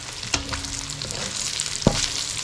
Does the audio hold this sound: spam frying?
yes